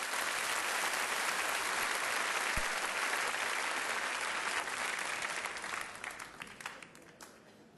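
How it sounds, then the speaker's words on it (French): A theatre audience applauds a performer at a Paris show, dense sustained clapping that holds steady for several seconds and then thins and fades toward the end, with no talking over it. "Applaudissez Monsieur Ovidiotel."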